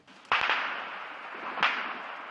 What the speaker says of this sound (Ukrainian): Це ПКМ, це починається обстріл наших позицій.